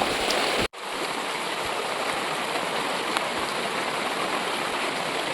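Heavy rain pours down outdoors in misty weather, a dense, constant wash of loud falling water that starts abruptly after a short cut and continues without a break.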